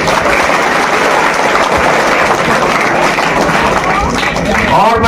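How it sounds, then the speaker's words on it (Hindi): Villagers in Jarauli, a village in Charkhari, clapping loudly and continuously for the Chief Minister, a dense close crowd applause filling the whole stretch. "तो माननीय मुख्यमंत्री जी के लिए ताली बजाइए।"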